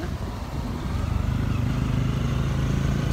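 Scooter in running condition hums along with a steady, close engine drone and wind rumble, continuous throughout.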